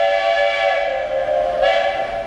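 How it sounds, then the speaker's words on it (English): A passing steam train sounds a sustained multi-tone whistle, loud and steady throughout, with faint rumbling and hiss beneath and a slight swell near the end. "wait for the train to go by."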